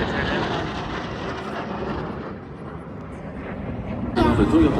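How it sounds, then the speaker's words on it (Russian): F-16 fighter jets passing over a military parade in Warsaw, a broad, loud roaring rumble that dips slightly and then swells again near the end. "Вот F-16 полетели."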